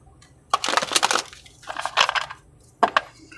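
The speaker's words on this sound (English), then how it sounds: "And one more shuffle." Tarot cards shuffled by hand in a quiet room, close and papery, with a long rustling riffle, a shorter second burst, and a final sharp snap.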